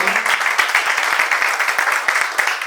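An audience at a theatre festival award ceremony claps steadily, a dense burst of applause that is close and continuous, with no voices over it.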